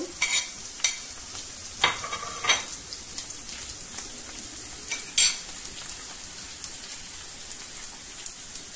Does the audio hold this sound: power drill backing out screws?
no